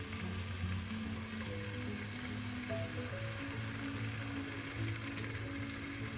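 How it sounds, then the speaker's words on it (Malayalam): Pieces of fish shallow frying in hot oil for a fish biriyani, a steady close crackling sizzle that continues without a break and with no voices. "മൂക്കുമ്പോൾ മീൻ കഷ്ണം ഓരോന്നായി പറിച്ചിടാം. നമുക്ക് ഷാലോ ഫ്രൈ ആക്കി എടുക്കാം."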